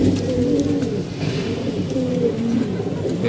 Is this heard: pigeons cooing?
yes